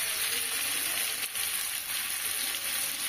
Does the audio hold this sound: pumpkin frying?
yes